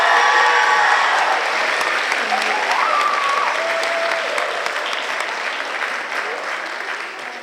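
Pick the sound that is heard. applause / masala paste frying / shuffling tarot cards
applause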